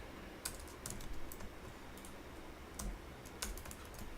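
Keys tapped on a computer keyboard while entering code for an Angular app, a steady run of light clicks with a few sharper strokes, close and fairly quiet, with no talking.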